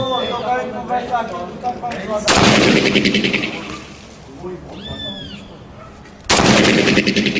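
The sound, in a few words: 7.62 rifle gunshots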